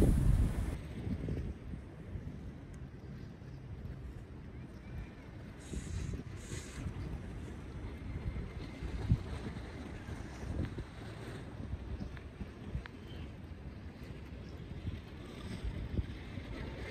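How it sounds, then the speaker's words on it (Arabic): Wind-blown sea and waves wash steadily against a quiet island shore beside a seaside café in Alexandria, a continuous broad roar with gusty wind buffeting the microphone, no voices present. "صوت البحر والهدوء."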